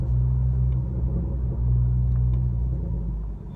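A 2019 Honda Accord with a loud aftermarket-style exhaust drives slowly, heard from inside the cabin as a steady low droning rumble without revving and without voices.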